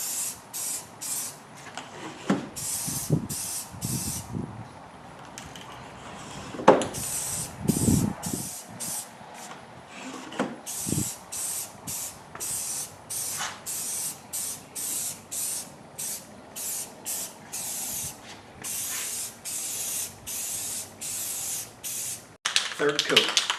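Another coat of spray paint going onto wheels on a hot day, a long run of short, near hissing bursts in quick rhythm, with occasional brief talking and handling knocks between passes.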